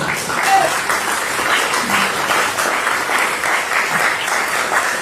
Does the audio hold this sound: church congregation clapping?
yes